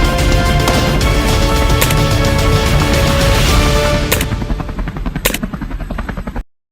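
Helicopter hunting feral pigs in Georgia, steady rotor thrum with rapid bursts of gunfire layered on top, loud and close, fading out at the end.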